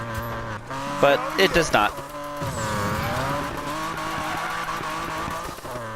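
A Rocket Bunny body-kitted drift car in Need for Speed Payback, its engine sounding almost like a rotary, revs in a steady, wavering drone with bursts of tire squeal early on, under a voice talking over it.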